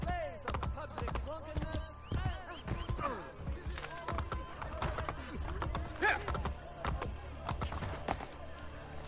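Horse hooves clip-clop in Assassin's Creed Brotherhood, a steady run of close, crisp hoofbeats blended with game music and ambience, while a voice talks over them.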